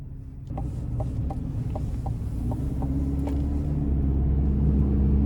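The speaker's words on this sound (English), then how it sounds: "Now the sound you get from the TurboMax powertrain just puts a smile on my face." Heard from inside the cab, the 2.7 TurboMax engine of a 2025 Chevy Silverado 1500 LT Trail Boss pickup accelerates with a deep, steady rumble that grows slightly louder and fuller.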